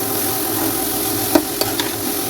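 Grated carrot halwa frying in a pan as sugar is stirred in, a steady close sizzle broken by a few quick spoon scrapes against the pan.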